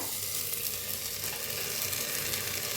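Moth beans (matki) roasting in a hot clay pot give a steady, close sizzle and crackle with faint stirring scrapes throughout, and no one speaks.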